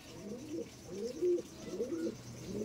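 Madrasi pigeons cooing close by, a run of soft, repeated throaty coos in a steady rhythm over faint background noise.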